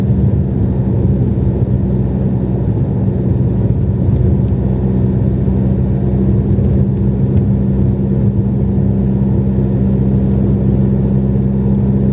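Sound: car engine driving on snowy road

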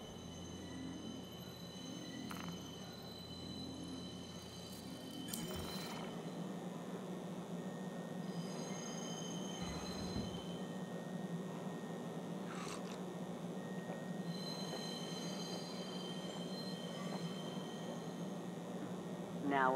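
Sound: train arriving at station in video game

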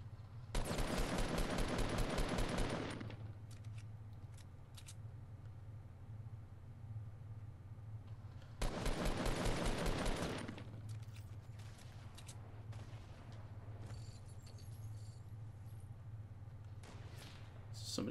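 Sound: sniper gunfire in the video game Fortnite

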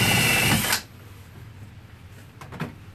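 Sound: cordless drill drilling into wood

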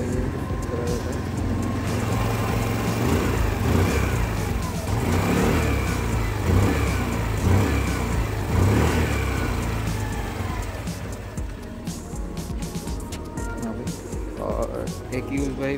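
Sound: Hero Maestro Edge 125 scooter engine revving with throttle

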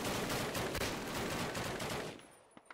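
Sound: gunfire in the Call of Duty video game

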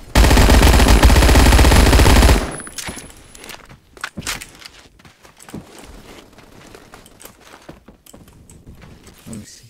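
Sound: light machine gun fire in video game Phantom Forces

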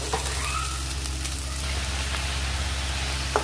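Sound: onion paste frying in oil

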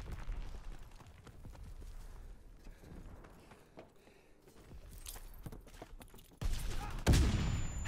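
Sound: gunfire in video game Call of Duty WW2, sawed-off shotgun

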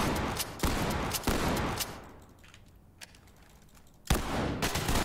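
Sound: shotgun shots in a video game

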